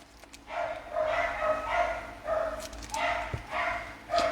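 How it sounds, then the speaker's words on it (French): Several dogs barking indoors, repeated bursts of yips and bow-wows in a steady rhythm, somewhat distant from the microphone and continuing throughout. "les chiens qui aboient"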